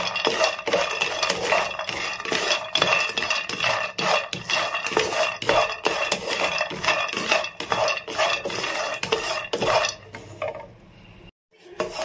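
Cashews and pistachios roasting in a pan, with continuous scraping and stirring, utensil clatter against the pan and a faint sizzle throughout, stopping abruptly near the end.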